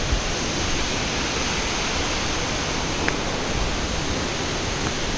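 A waterfall roars as a dense, steady, broadband rush of falling water, loud and close, with no voices over it.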